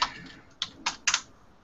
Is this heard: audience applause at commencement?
no